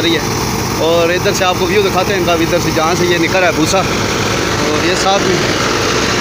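A tractor and threshing machine drone steadily and loudly nearby, a continuous mechanical rumble with people talking over it.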